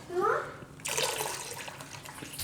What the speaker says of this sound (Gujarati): તો થોડુંક આમાં આપણે પાણી નાખી દેવું